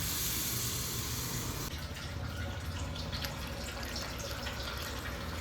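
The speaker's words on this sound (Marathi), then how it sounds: "आता हे वाटणाचं पाणी घालून घेऊ आपण." Water from rinsing a ground spice paste is poured into a pan of sautéed field beans. A loud, close rush of liquid settles after a couple of seconds into a softer, continuous bubbling splash.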